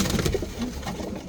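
Roller pigeons gathered together in a loft give soft, low cooing, a brief burst of throaty murmurs close by and at moderate volume.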